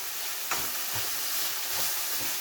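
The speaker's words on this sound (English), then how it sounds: "I'm just gonna allow it to fry up a little to infuse" Food sizzles in a pan for corned beef and cabbage, a steady close hiss of frying with a faint clink early on and no talking.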